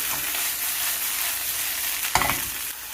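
Sliced leeks sizzling and frying in a hot pan, with a continuous bright hiss and a sharp scrape or toss near the end as the leeks are stirred around.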